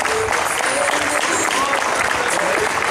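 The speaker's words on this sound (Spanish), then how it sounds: "Un aplauso para nuestros U17." An audience applauds the U17 team at its presentation for the Liga Federal 2022, a dense, steady round of clapping that holds at full strength throughout.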